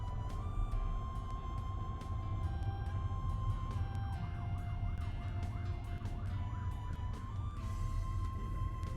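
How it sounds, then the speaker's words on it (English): An ambulance siren wails in the distance, its pitch sweeping up and down repeatedly over a continuous rumble of traffic. "I hear an ambulance"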